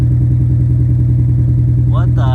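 A swapped Honda D16Z6 engine in an EF hatchback idles loudly and steadily through a new aftermarket Temu exhaust that dumps nearby, with a low, even pulsing rumble. A voice briefly starts talking over it near the end.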